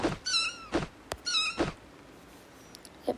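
A cartoon cat in a Toca Boca life-simulation game gives two clear, drawn-out meows close up, each followed by a short thump, with a faint third sound near the end.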